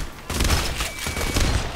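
Rapid sniper gunfire in the video game PAYDAY: The Heist, a dense, continuous crackle of loud shots with overlapping bursts and game noise, close and sustained throughout.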